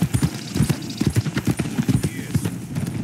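Rapid, steady hoofbeats from the video game Red Dead Redemption 2 clip-clop at a brisk trot, close and fairly loud, with no talking over them.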